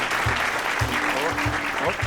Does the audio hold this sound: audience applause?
yes